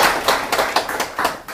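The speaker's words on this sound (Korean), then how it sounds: "자, 다시 한번 박수 주시죠." A seminar audience at a semiconductor market lecture claps in a quick series of distinct, sharp hand claps, about seven in all, close and crisp with no talking.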